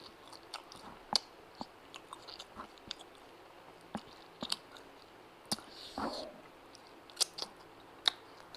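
Someone bites into and chews an all-cheese corn dog up close, with sharp crunchy bites and wet chewing repeating irregularly over a quiet background and no speech.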